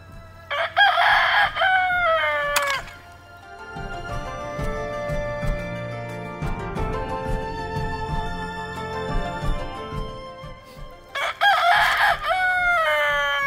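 A rooster crows loudly and close by at the start and again near the end, while a flock of chickens clucks steadily in between on a backyard plot.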